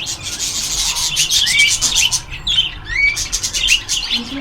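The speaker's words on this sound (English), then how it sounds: "And here another cage with some other birds. They're also loud" Caged colorful birds at a farm in Germany squawk and chirp loudly and close by. Repeated harsh calls and rubbing, rustling bursts come in a busy, irregular stream.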